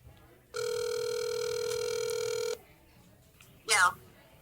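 A telephone rings through a speakerphone call placed from a restaurant podcast set, one steady two-second ring tone fairly loud, followed by a brief voice.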